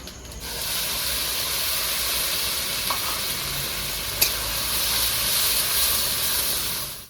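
Onion paste sizzles and hisses steadily in a frying pan, a loud continuous fry with a few faint stirring clicks and no talking.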